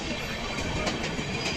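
The Gitanjali Express, running from Mumbai CSMT toward Howrah, rushes through Kira station in a loud, close, continuous rumble with rattling wheel clatter.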